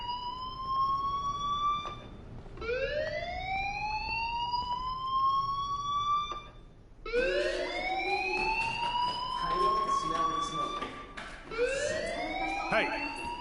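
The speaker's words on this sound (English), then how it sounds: "do you hear that fire alarm?" A fire alarm in the video game Life is Strange, a loud electronic wail whose pitch sweeps upward again and again in repeating cycles, sounding steadily for the whole stretch with no voices.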